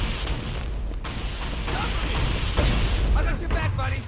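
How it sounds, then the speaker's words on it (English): Grenade explosions in the video game Cursed Halo (a Halo mod) go off as heavy, booming bursts over a continuous roar of combat noise, with voices talking throughout. "Out of the way of the grenades."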